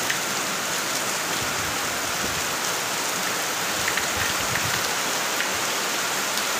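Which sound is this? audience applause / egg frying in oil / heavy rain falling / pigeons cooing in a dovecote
heavy rain falling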